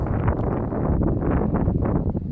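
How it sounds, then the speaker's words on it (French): Wind gusting outdoors beside a granite-paved spot where solar panels are being set up, blowing loud and steady across the microphone as a rough, broadband rush. "il y a un peu de vent"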